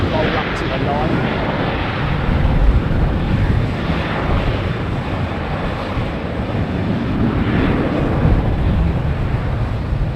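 A jet airliner rolls up to the runway 09 line, a broad, loud, steady roar of engines with heavy wind rumble, sustained without break and slowly swelling at moments.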